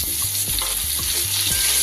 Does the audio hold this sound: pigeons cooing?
no